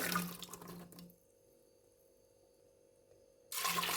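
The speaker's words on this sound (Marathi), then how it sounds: "त्याला मी टाकते एवढं पाणी दोन वाट्या" Water poured onto soaked, washed kidney beans, a short splashing pour at the start, then near silence before a second burst of running water at the end.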